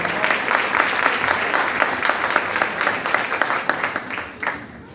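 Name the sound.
church congregation applause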